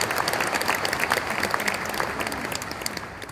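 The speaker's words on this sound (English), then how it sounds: "yeah, clap it up, seriously." Applause from a conference audience at a business software event, dense continuous clapping from a large crowd filling the room, steady and loud throughout before easing slightly at the end.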